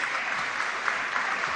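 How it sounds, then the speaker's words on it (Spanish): Audience applause at a public hearing on electoral reform and women's political rights, a dense, steady burst of many hands clapping that lasts under two seconds with no break. "Un aplauso, por favor,"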